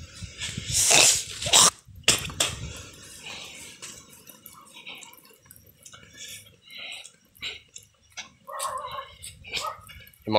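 A dog barks and whimpers near a mother pig on a hillside farm by a mountain, with loud bursts early on and scattered quieter yelps later, mixed with other animal sounds.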